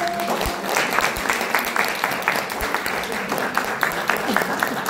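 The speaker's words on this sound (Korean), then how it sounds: "박수를 쳐주세요." Applause from an audience at an academic seminar as bouquets are handed to presenters, a steady patter of claps with scattered individual strikes, fairly close and continuous, with a few faint voices underneath.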